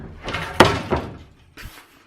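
A door in a hotel room opens with a sharp clack of the latch, a couple of thudding bumps as it swings, then a short final knock, close and fairly loud.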